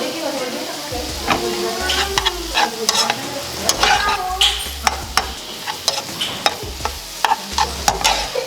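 Cauliflower butter fried rice being stirred and fried in a pan, with repeated spatula scrapes and knocks over a steady sizzle and a faint voice now and then.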